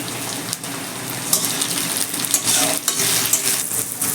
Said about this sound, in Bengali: এবার খুব সুন্দর করে ভেজে নেব পেঁয়াজ